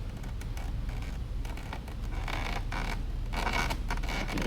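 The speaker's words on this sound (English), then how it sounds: "I'm going to finish tightening it up" A part on a Raptor mobility scooter is tightened during assembly, giving a quiet run of creaking, grinding turns in quick uneven strokes up close.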